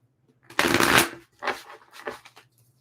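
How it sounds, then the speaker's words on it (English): A deck of tarot cards is shuffled close by, one loud riffling burst followed by two shorter, softer flutters of cards, with no talk. "One more shuffle."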